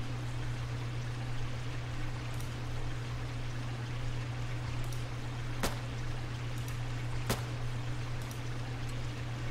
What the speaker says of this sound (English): It's a stupid waterfall.